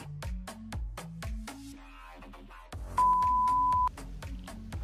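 A bright notification bell sound effect rings once as a clear sustained ding lasting close to a second, laid over a punchy rhythmic music bed with steady thumping beats.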